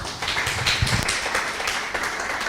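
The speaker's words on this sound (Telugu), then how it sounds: "గట్టిగా చప్పట్లు కొడదాం" Church congregation clapping loudly and steadily, a dense wash of many hands with occasional sharper claps.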